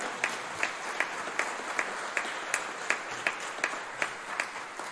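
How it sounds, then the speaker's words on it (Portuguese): A church congregation claps in unison, a fairly faint, even beat of sharp hand strikes roughly three per second that keeps a steady rhythm over a soft background hum. "aplauda o nome do Senhor."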